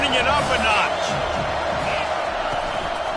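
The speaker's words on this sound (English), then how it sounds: "this crowd is turning it up a notch" A stadium crowd at an Ohio State vs Penn State college football game roars and cheers in a steady wash beneath a commentator's voice.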